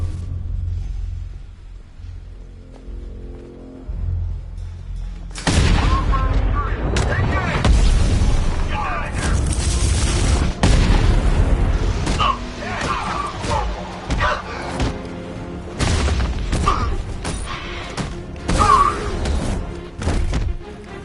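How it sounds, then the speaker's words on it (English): Bomb blast in the video game Batman: Arkham Knight, a loud sudden boom with heavy low rumble that cuts in after a quiet stretch, followed by continued thuds and crashing debris, with a voice talking over it. "Just wait until the bomb goes off."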